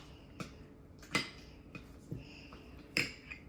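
A spoon clinks lightly against a bowl while stirring a lip gloss mixture, several times at an uneven pace, small sharp taps with quiet pauses between them.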